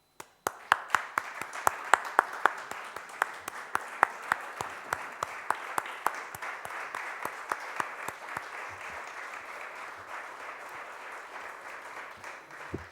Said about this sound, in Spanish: nos pongamos todos en pie y le demos un aplauso